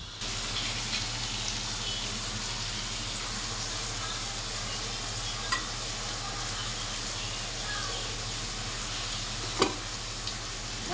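Bitter gourd slices fry in a pan, a dense continuous sizzle with a faint occasional clink, steady and fairly quiet.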